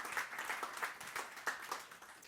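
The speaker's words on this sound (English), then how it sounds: "Round of applause for them." Audience applause at a fireside chat event, a short burst of scattered clapping from a modest crowd with a few sharper individual claps standing out, fairly even and steady.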